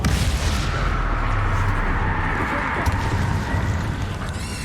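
A Bombarda blasting spell erupts during spider combat in the video game Hogwarts Legacy, giving a loud, continuous rumbling roar with dense crackling low booms that stay close and sustained for several seconds, with no voices over it.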